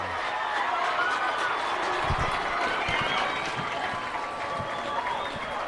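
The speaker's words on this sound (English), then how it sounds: "As the Lehi crowd explodes" A Lehi high school baseball crowd roars and applauds in a tense late-game moment, a dense, sustained wall of cheering and clapping with scattered shouts throughout.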